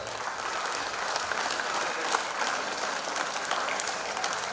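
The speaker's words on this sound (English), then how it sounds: "Encourage them with a big round of applause." Steady, continuous applause from a school audience at an annual day function, a dense crackle of many hands clapping with no pause and no voices rising above it.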